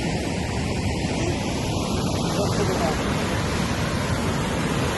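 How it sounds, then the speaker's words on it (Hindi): Water rushing at a dam in Balochistan, a steady, loud broadband roar that runs unbroken throughout, with no voices over it. "देखो भाई, ये देखो डैम का पानी।"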